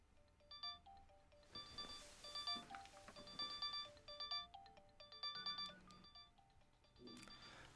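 A phone ringtone plays a repeated bright electronic melody of chiming tones in an office, steady and unanswered for several seconds, fairly faint and without speech.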